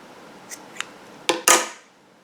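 Scissors trim yarn ends on a crochet project: a few light snips, then two sharper, louder close-up cuts near the end, in a quiet room.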